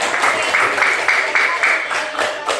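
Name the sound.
applause for the third group in class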